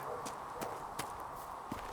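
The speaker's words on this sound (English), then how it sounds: "Can't use my horse in here, damn it." Horse hooves clip-clopping in the video game Dragon Age: Inquisition, a quiet, steady walking rhythm of sharp hoof knocks over a constant low ambient hum.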